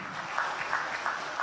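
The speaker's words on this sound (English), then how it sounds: "Please give her a round of applause." Audience members at a technology conference give a short round of applause, a brief burst of steady clapping in a hall, heard without any talking.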